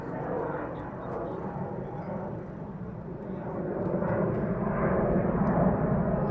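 A single military jet flies inbound at RAF Lakenheath, a distant rumbling engine roar that swells gradually louder toward the end.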